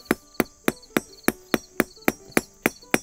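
A hammer striking hot iron at an 18th-century forge while a taper is drawn out, eleven sharp ringing blows at a steady, even rhythm, close and clear with no talking.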